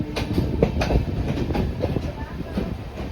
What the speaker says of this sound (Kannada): ನಮ್ಮ ಟ್ರೈನ್ ಸ್ಲೋ ಆಗಿ ಹೋಗ್ತಾ ಇದೆ